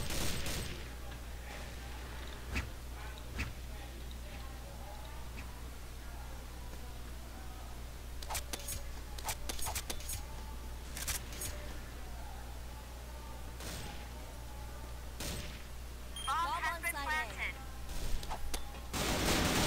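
Gunfire in the online shooter CrossFire: scattered sharp shots and short bursts over a steady low game hum, with players talking throughout.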